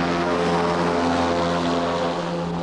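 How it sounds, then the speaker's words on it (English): Steady, droning hum of a very light aircraft powered by two small engines about the size of a Beetle engine, cruising at around 55 miles an hour, heard continuously and fairly loud with no voices. "only needs 2 tiny power units the size of a Beetle engine to push it through the air"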